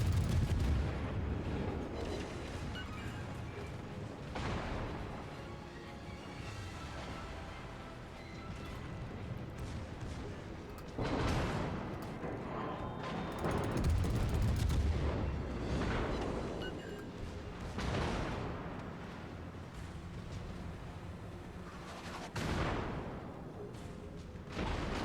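Naval guns of warships booming in the game World of Warships, a series of heavy, fairly distant salvos spaced every few seconds over a low rumbling background.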